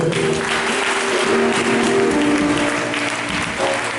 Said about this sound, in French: Elles sont acclamées le Seigneur.